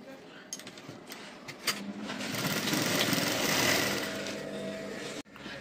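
Sewing machine stitching a blouse in a home tailoring setting, a steady close whirring run lasting several seconds with some faint clicks at the start and an abrupt stop near the end.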